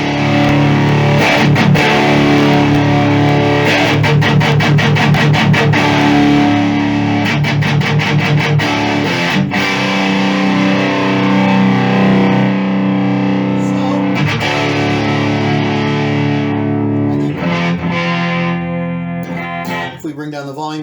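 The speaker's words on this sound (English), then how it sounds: "you can really hear that thin out that happens on a classic Marshall master volume on a JCM 800" Heavily distorted electric guitar through a Marshall JCM800 master-volume amp plays loud chords and riffs with a thin, crunchy amp tone, pausing briefly between phrases.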